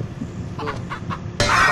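Chickens clucking in the horror video game Pacify, a few short soft clucks in quick succession, followed by a sudden burst of louder flapping and squawking noise.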